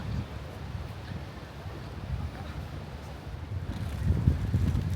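Steady low wind buffets and rumbles against the microphone outside the Süleymaniye Mosque in Istanbul, swelling slightly near the end, with no clear voices.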